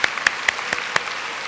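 Applause from an audience at a Christian teachers' conference, a short stretch of scattered, fairly close claps with a few sharper individual hits standing out, no voices.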